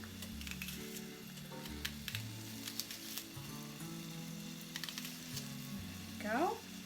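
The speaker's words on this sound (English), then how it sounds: "So I'm going to cook the onion a little bit until it gets a little soft" Chopped onion sizzles and fries steadily in a pan for a tomato pasta sauce, with occasional stirring and clinks of a utensil, close and moderately quiet throughout.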